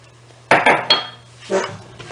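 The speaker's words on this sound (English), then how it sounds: "mixing up our salt and our baking soda into the" Clinking of utensils against a mixing bowl as salt and baking soda are stirred into cookie dough for oatmeal pecan chocolate coconut cookies: three quick close knocks followed by a softer scrape, with no talking.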